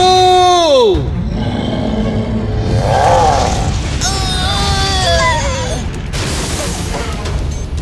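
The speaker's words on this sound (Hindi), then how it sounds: "Fire blast attack go." A cartoon fire blast attack in the children's animated series Watch Car goes off as a loud, roaring explosive rush. Descending synthetic whistles and wailing, cry-like effects run through it, and voices shout underneath.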